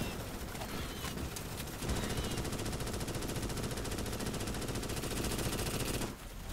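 Gunfire in Starship Troopers: Extermination: sustained rapid automatic fire, a dense unbroken stream of shots that intensifies partway through and stops near the end, heard amid loud battle noise.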